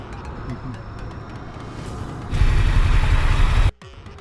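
A Ducati Scrambler Icon Dark motorcycle opens up under throttle: a rumbling ride gives way to a sudden louder surge of engine and wind roar that cuts off abruptly, with a rider talking over it.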